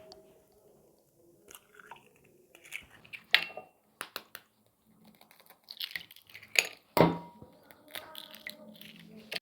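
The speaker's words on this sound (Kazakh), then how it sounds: "3 жұмыртқаны ыдысымызға бірінші жарып аламыз." Three eggs cracked into a bowl for crêpe batter, heard as quiet, scattered sharp cracks and taps against the rim, with a few louder knocks near the middle and end amid faint handling noise.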